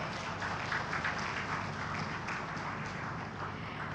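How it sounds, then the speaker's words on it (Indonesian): A hall audience at a live Quran launch event gives a steady, fairly distant wash of applause that holds evenly for several seconds with no one speaking. "Boleh tepuk tangan Bapak Ibu hadirin?"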